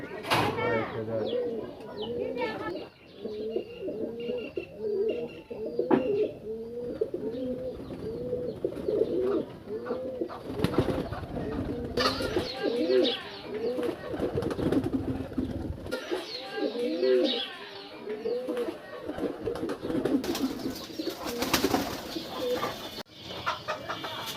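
Pigeons, newly collected females among them, coo steadily in repeated soft, throaty phrases from close by, while people talk at times over the birds.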